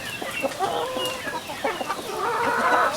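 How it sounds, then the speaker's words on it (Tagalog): A flock of farm chickens in a netted range pen clucks busily and continuously close by, with overlapping calls and no talking. "actually kukunti na lang po yung mga manok natin"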